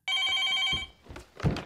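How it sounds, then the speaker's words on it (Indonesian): A home telephone rings with one sustained electronic bell tone for most of a second, loud and close, followed by softer thumps and rustling noises. "telepon rumah berdering"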